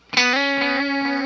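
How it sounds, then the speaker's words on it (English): A single sustained distorted electric guitar note runs through an Eventide Timefactor tape echo effect, ringing out with a warm, wavering echo tail that lasts the whole short clip. "the Eventide has like tape echo"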